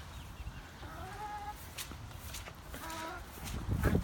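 Backyard chickens cluck in a short series of close, soft calls over low rustling, with no talk.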